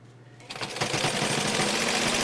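An OmniStitch 2 sewing machine starts up after a brief quiet moment and runs at a steady, fast, close whirr with a dense rattling stitch rhythm.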